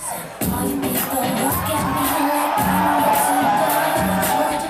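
Steady, loud cheering and yelling from a crowd packed into a New York City nightclub for Britney Spears's late-night set, with shouts rising over a thumping beat.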